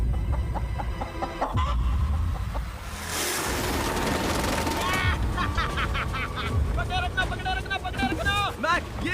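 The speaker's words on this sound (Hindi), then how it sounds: "मैंने मुर्गी पकड़ ली।" A caught hen clucks on an island beach in short rapid bursts, close by, with people talking over and around the calls.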